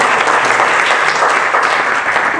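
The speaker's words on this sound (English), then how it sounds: "I think we should give a huge round of applause for the Afghan participants." A conference hall audience at a workshop on Afghanistan gives loud, dense applause, a continuous wash of many hands clapping with no break throughout.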